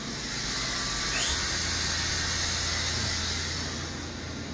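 The spindle of a 2021 Kitamura MyCenter 4XV CNC vertical machining center spins up, a faint rising whine over a constant broadband hiss and low machine hum, with no talking.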